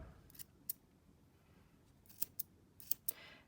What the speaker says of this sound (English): You're going to want really sharp scissors, and you just trim them like that.